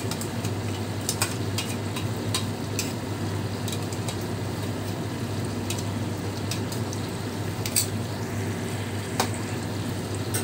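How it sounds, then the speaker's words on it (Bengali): Onion, tomato and green chilli paste goes into a hot frying pan of browned chicken korma over high heat, giving a steady, even sizzle and hiss with a few faint scrapes and clicks, no talking. "এবারেতে আমি যেটা পেস্ট করেছি সেই পেস্টটা দিয়ে দিচ্ছি, অর্থাৎ পেঁয়াজ, টমেটো আর কাঁচা লঙ্কা।"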